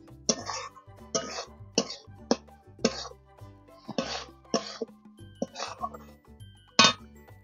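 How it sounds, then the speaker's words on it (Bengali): Roasted sattu being stirred and fried in a pan for a Bengali lote fish kosha, heard as a series of rhythmic scraping strokes, each a short, close, loud burst repeating roughly every half second. "ছাতুটা দিয়ে নেড়ে চেড়ে একসঙ্গে আবার আমি কিছুক্ষণ কষে নেব"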